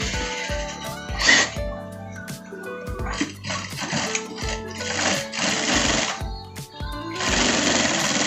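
Sewing machine stitching the front pocket of a parka jacket, running in several short loud bursts of rapid mechanical chatter separated by brief pauses, with a voice heard faintly at times.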